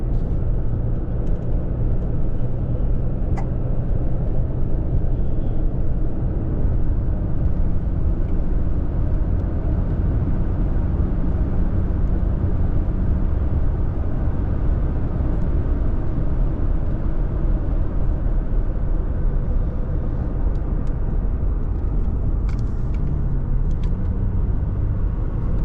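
A car cruises a rural Colorado road between Weldona and Fort Morgan, its cabin filled with a loud, constant low rumble of engine and tyre noise throughout.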